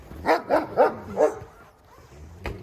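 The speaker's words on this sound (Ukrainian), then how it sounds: "Ой, страшний голос має пес." Four deep, close barks from a large dog in quick succession during a winter-morning walk in woods, then a lull and a single short sharp sound at the end.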